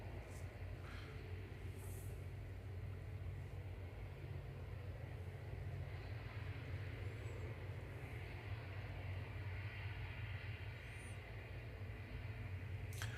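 A Hainan Airlines airliner lands at Manchester Airport, heard as a faint, distant, unbroken engine roar and low rumble that holds steady throughout.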